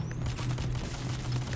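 Rapid gunfire in the video game Payday: The Heist rattles in a fast, continuous burst of shots, loud and close throughout the brief moment.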